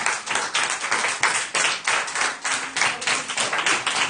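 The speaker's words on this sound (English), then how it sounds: "Let me clap for Gloria." A steady run of hand claps, brisk and evenly spaced, loud and close with no talk over them.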